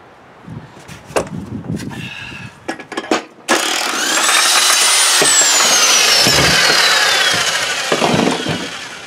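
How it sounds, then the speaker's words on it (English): A pneumatic impact wrench with a 7/8 socket spins off the spindle nut on a lawn tractor cutting deck, a few short clattering bursts followed by a loud, sustained whirring hammer run, close up. "a 7/8 socket should take this off with our impact"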